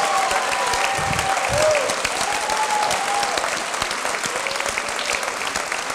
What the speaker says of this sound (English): if we could please again give a massive round of applause to all of our sensational